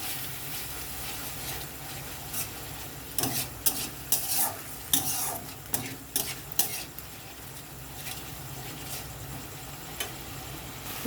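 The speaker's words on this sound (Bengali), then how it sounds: "মশলাটা আমার ভাজা হয়ে গেছে" Spice paste fries in oil with a constant loud sizzle while a spoon stirs and scrapes the pan, sending out bursts of clattering metal knocks in the middle stretch.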